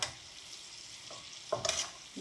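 Salmon skin sizzles in a hot pan while being basted, a steady soft frying hiss with brief louder spits and spoon scrapes near the end, fairly quiet and with no voices.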